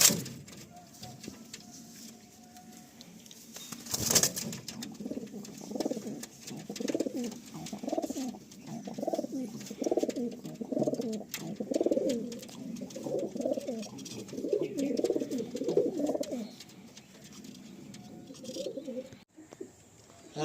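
Pigeons cooing close by in a loft, a long run of soft, rhythmic throaty coos repeating every second or so, preceded by a sharp knock.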